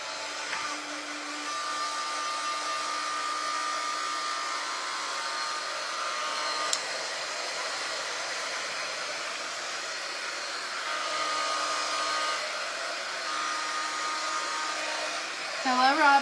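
A hair dryer drying paint on a lamb-shaped wooden cutting board runs as a steady, close, loud whoosh for the whole stretch, with a faint voice and slight shifts in tone near the end.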